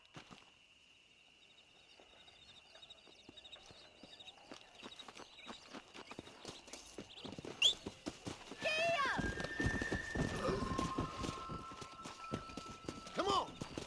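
Horse hooves clip-clop in Red Dead Redemption, starting as quiet walking steps and building to a louder, quicker gallop, with a whinny and voices talking over the riding.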